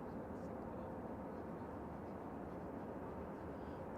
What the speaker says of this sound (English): I've got an EasyJet Airbus A320-200 that's going to Naples